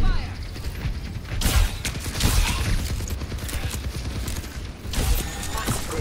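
Gunfire and game-action noise from the video game Overwatch 2, with dense crackling bursts and impacts around the second and fifth seconds, heard under voices.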